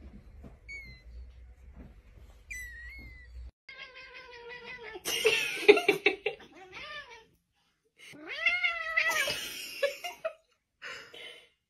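A house cat meowing and yowling in several drawn-out, wavering calls, fairly close and loud, separated by short quiet gaps.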